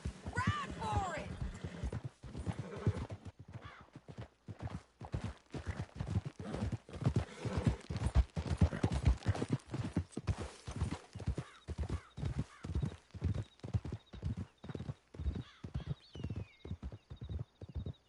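Horses gallop through a canyon in Red Dead Redemption 2, a fast, steady drumming of hooves with a neigh early on, while voices speak over the ride.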